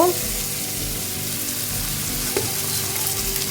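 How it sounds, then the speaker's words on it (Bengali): Ginger paste and crushed garlic sizzle steadily in a hot pan with fried onion, tomato and green chili, with a few clinks and scrapes from stirring. "দিয়ে আমি ভালো করে নাড়িয়ে চাড়িয়ে ভেজে নেবো"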